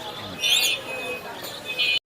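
Pigeons coo and chirp at a bustling pigeon market in Mirpur-1, Dhaka, with short bird calls rising over a constant crowd hum and nearby voices.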